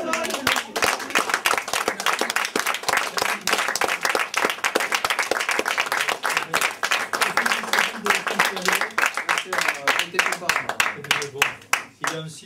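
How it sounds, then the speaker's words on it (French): An audience gives a long round of applause, with dense, rapid clapping from many hands. It is loud and continuous for about twelve seconds and then thins out toward the end. "Alors, on les applaudit encore bien fort."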